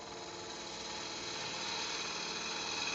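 Wood lathe turning a tall kitchen container while a skew chisel cuts, a steady mechanical hum with a faint rough scraping texture, constant and close.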